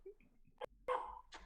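A dog makes a few short, quiet sounds: a soft whine, a sharp yip, then a brief bark-like cry, faint and close in a quiet room.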